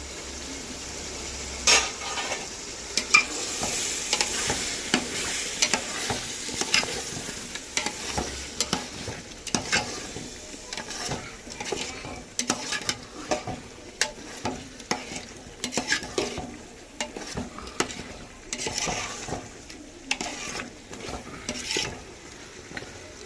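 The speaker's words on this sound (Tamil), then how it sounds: "கறி வேக வைக்கிறதுக்காக லைட்டாக தண்ணி ஊற்றிக்கிறோம்" Chicken curry cooks in a pot in a village kitchen after water goes in, with a low bubbling simmer broken by frequent clicks and scrapes of stirring and utensil knocks over about twenty seconds.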